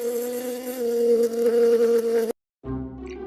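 A steady, close bee buzz hums loudly for a couple of seconds near a beehive, cuts out briefly, then resumes.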